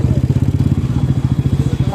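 A Bajaj Dominar 400 with a 373cc engine rides a rough road in Assam, its motor throbbing in a fast, steady pulse, loud and close.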